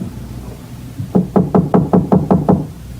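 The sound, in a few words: knocking on a door, radio drama sound effect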